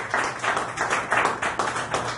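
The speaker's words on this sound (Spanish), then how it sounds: "yo le daría un aplauso al Señor por eso" Congregation clapping in a church service, a steady run of hand claps with rhythmic pulses, fairly close and moderately loud, no talking over it.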